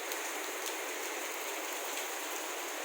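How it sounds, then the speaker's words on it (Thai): Steady, even hiss of rain falling, constant and moderately soft with no pauses and no voices. "ฝนก็ยังไม่หยุดครับ"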